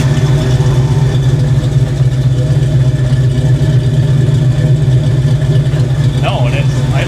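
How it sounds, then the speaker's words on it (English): A Ford Fox Body car engine idles at about 800 rpm with a steady low rumble close by, while people talk over it. "it's idling at like 800"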